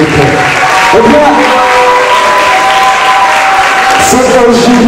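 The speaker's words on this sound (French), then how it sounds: "Est-ce qu'on peut applaudir les collèges de Boko, s'il vous plaît?" An audience at a school debate contest claps loudly and continuously, with a voice and some cheering audible over the steady applause.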